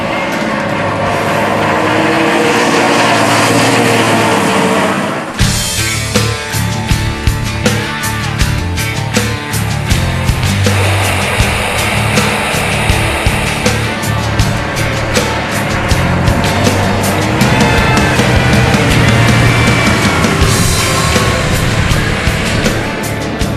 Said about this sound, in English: Just in front of us, you have the first truck, which is losing control. It keeps sliding.